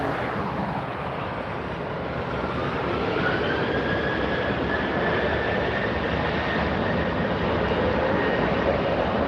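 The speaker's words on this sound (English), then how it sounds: "Korean Air 747." A Korean Air Boeing 747 arrives at LAX, its engines a loud, sustained roar with a slowly drifting whine that holds steady from start to finish, with no voices over it.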